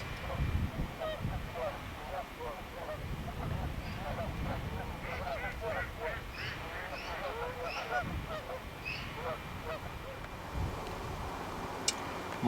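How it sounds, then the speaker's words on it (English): A flock of geese honks continuously at a distance in an outdoor wetland setting, with many overlapping calls under a low ambient rumble. "some disturbance with the geese I wanted to show there."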